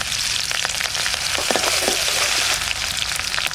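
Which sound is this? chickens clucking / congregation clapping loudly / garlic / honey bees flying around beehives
garlic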